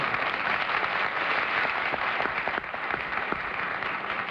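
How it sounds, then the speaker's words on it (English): A studio audience at a 1961 television panel show applauds, a dense steady patter of clapping at moderate level with a slight drop partway through, and no voices over it. "May we have some more applause for Mr. Burrows?"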